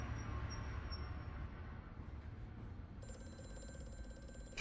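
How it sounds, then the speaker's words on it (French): A truck rumbles past in Amnesia: A Machine for Pigs, a steady low drone throughout, then a telephone starts ringing partway through, its bright ringing layered over the continuing rumble; no one speaks. "Entre un camion qui passe et puis le téléphone."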